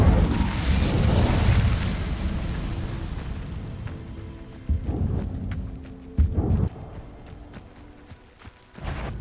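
A fire spell cast in the video game Hogwarts Legacy, heard as a rumbling, roaring burst that fades, followed by a few sharp whooshing hits and pops.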